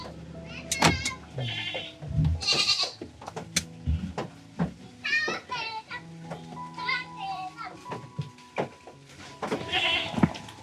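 A goat bleats a few times, loud and close, over busy children's voices and household noise.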